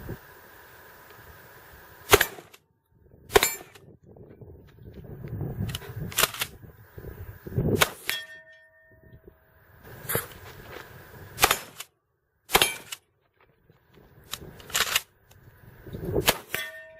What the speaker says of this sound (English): I'll then need to cycle the action again to kick out the buckshot, but now I've loaded slug